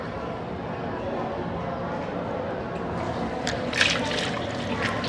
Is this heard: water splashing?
yes